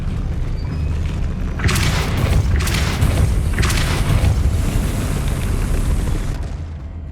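Depulso spell blast cast in Hogwarts Legacy, a booming magical burst that rumbles loudly through the middle of the clip, with repeated bright crackling surges over a steady low roar before fading out.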